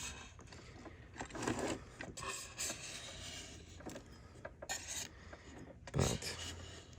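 A scraping blade pushes residue off a Denecke TS-C smart slate in a series of short, rough, uneven rasping strokes, quiet and close, with small pauses between passes.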